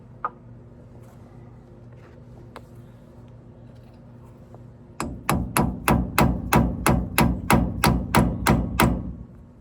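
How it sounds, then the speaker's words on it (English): Steel hammer blows drive a stuck pin out of the rear axle of a 1985 Chevy C/K pickup during an axle seal replacement: about a dozen sharp, close, evenly spaced metallic strikes that begin midway after a quiet stretch. "I had to drive it out, literally with a hammer."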